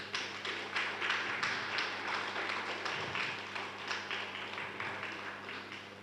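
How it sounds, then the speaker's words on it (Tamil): Audience clapping at an astrology education event, a steady run of many hands applauding together, fairly faint and even throughout with little else over it. "கைத்தட்டலாமே."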